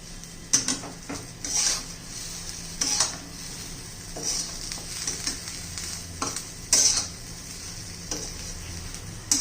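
Masala okra being stirred in a pan, a spoon scraping and tapping the metal in irregular strokes over a low sizzle, close and fairly quiet, with no voices.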